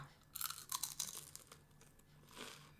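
Crunching and chewing on crispy keto fried chicken skin, salted and fried in a pan: a burst of sharp, close crunches in quick succession, then quieter, softer chewing, and a second crunch near the end, with no talking.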